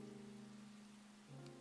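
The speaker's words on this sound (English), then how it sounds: "Raindrops and footsteps." Rain falling in a video game near an abandoned factory, a soft steady hiss over low sustained musical tones, faint and continuous throughout.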